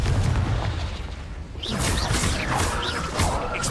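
A booming blasting-curse explosion from the Hogwarts Legacy spell Confringo, a heavy low rumble followed by crackling bursts and scattered pops, loud and close with no talking.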